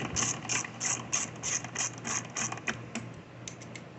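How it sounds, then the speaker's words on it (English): A ratchet wrench clicks steadily as carburetor mounting bolts are tightened on a Briggs & Stratton 550ex engine of a Troy-Bilt mower, a rapid close run of metallic clicks slowing near the end. "We're going to tighten them down."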